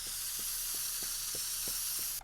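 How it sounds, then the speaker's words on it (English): Spray can hissing in the video game Teardown, a continuous loud hiss with faint rhythmic ticks beneath, ending abruptly at the close. "Can I change the color of this spray can?"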